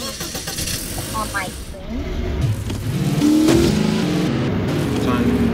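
A car engine in Garry's Mod roleplay starts and revs up to a louder sustained drone, heard under several people chatting.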